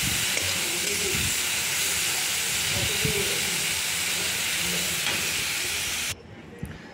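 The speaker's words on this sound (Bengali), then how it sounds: "হলুদ দিয়ে আবার ভালো করে নেড়ে চেড়ে একটু ভেজে নেব।" Bitter gourd pieces fry with turmeric in a pan, a steady close hiss and sizzle that runs unbroken before abruptly dropping quieter near the end.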